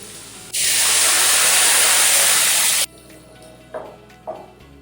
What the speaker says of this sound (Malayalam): തിളച്ച വെള്ളമാണ് ആഡ് ചെയ്യുന്നത്.